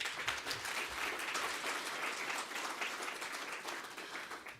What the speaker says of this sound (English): Please, a round of applause for our panelists.